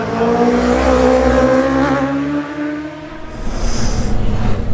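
Michael Dunlop's racing motorcycle at full speed on the Isle of Man TT road course, a loud sustained engine whine with shifting pitch as it passes, fading slightly midway before surging again.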